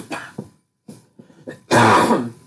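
A few short, rough throat clears and coughs from one person, close up, separated by brief silences and ending in a longer, harsh cough.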